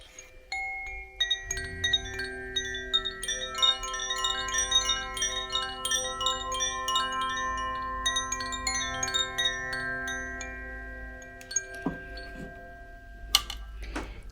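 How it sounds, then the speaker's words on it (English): An earth-element Koshi chime rings out in a dense cascade of delicate metallic tinkles with sustained overtones, steady for about ten seconds before a couple of louder clanks. "This chime here is the earth element."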